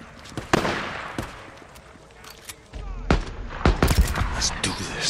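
Gunfire from the zombie survival game Days Gone, with sharp shots and short rapid bursts that cluster and grow louder toward the end, under occasional voices.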